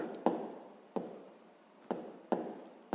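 A pen writes out a maths problem on paper for a sixth-grade division-by-fraction exercise, with five scratchy strokes in short separated bursts, close and quiet, no speech.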